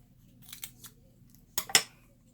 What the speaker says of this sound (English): Let me grab my scissors really quick.